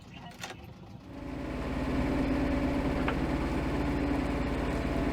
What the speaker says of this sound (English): We had to turn the engine back on.